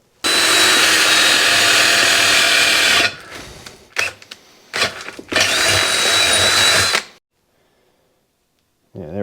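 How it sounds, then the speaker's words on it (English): A power drill bores a hole into a part for a Cat D4 bulldozer's hydraulic pump. It whines loudly and close in two long bursts, with short stutters and pauses between them, then falls silent. "I'm gonna have to drill a hole in this thing."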